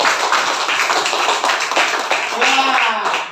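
A classroom of primary school children applauds a classmate at the end of a lesson on Indonesian geography. The dense clapping runs steadily for the whole stretch, with a brief voice rising near the end.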